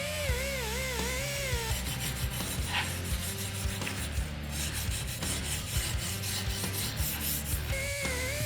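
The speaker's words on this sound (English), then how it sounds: "Then some smoothing of the cut areas with the large disc sander" A large disc sander smooths the cut areas of a steel custom track bar in a garage, giving a continuous rubbing, rasping grind with shifting pitch and short surges throughout.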